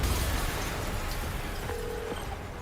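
A video game explosion: a loud, dense roaring rumble fills the whole stretch, tapering slightly toward the end, with a brief faint tone near the close.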